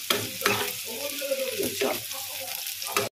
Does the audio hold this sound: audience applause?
no